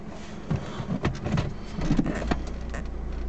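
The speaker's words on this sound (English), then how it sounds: "Start the car up." Mercedes A160 car with 46,188 miles starting up, heard from inside the cabin: a few clicks and knocks, then a steady low engine hum settling in.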